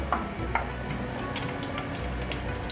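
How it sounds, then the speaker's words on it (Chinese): Vegan shrimp cakes made with enoki and shiitake mushrooms fry in a small pot of hot oil, giving a steady close sizzle with a few sharper crackles and pops. "油热了，把素虾饼放进来炸。"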